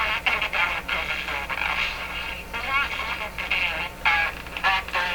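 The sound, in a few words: distorted choppy audio from Bakelite Baby Champ NE 5000 radio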